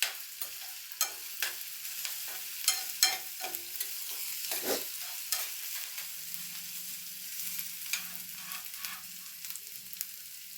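Torn curry leaves hit hot oil in a pan for upma, a steady crackling fry broken by sharp pops and spattering bursts, with stirring scrapes throughout and no talking.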